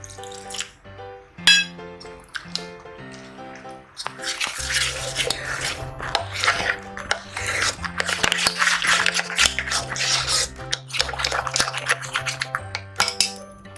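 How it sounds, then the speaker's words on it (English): Boondi batter is stirred in a bowl, with busy wet sloshing and scraping that starts after a short stretch and continues steadily over background music, loud and close. "Let's mix this to a thick batter consistency without any lump."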